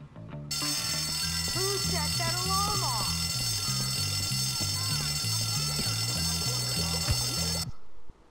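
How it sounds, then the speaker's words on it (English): Fire alarm in the video game Bully, a steady loud electronic ringing from start to near the end, layered over a repeating low musical pattern, with brief voices and sound effects in the middle. "Call the fire alarm."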